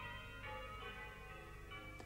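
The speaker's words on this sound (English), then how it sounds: "came the sound of distant bells, the joyful peals of Christmas time" Distant church bells ring out in joyful Christmas peals, faint and far off, their overlapping tones held in a steady wash with no voices.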